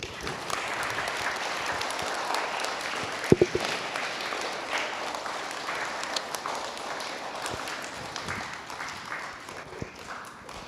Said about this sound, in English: you can give them a big clap, a round of applause